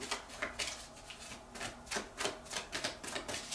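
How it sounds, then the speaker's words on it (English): A deck of tarot cards is shuffled by hand, producing quick, crisp papery riffles and flutters in a steady run of bursts, close up and fairly quiet. "I'm going to do 2 more shuffles."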